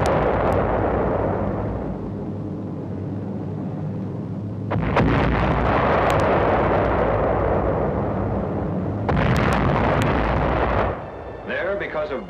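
Bombs exploding in 1945 wartime War Department footage of civilians fleeing in France and China, a series of loud, heavy bursts and rumbling blasts, close and continuous, with sharp cracks near five and nine seconds.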